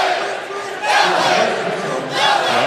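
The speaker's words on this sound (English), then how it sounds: "I'm sure at home you can hear this crowd." A packed basketball arena crowd roaring at a Gonzaga home game against Howard, loud, continuous cheering that swells in waves.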